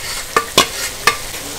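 Garlic goes into browning onions frying in a pan at a mutton kitchen, with soft sizzling broken by a few sharp stirring scrapes, close and with no talk.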